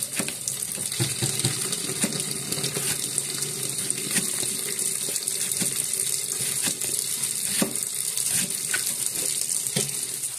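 Running water splashes steadily as sliced banana blossom is dropped into it to keep it from darkening, a continuous close wash with small clatters throughout and no talk.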